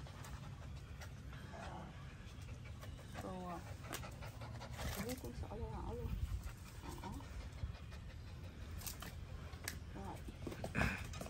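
Pet dogs at home pant softly and steadily, with a brief whimper now and then, while people talk over them in a room.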